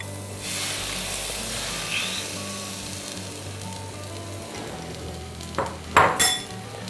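Six beaten eggs poured into a hot pan for egg burji, giving a steady, close frying sizzle throughout, followed near the end by a few louder clinks and scrapes of a utensil against the pan.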